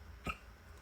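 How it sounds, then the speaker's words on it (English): A single short hiccup from a person working with fabric scraps and glue, brief and soft against a quiet room hum. "Oh, hiccups."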